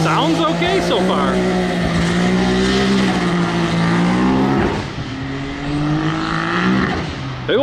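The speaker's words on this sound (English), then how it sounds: "Big old turbo's doing stuff." The turbocharged Beast Mode X3 car revs hard on a dyno, its engine roaring loud and continuous at high pitch, dipping briefly before climbing again.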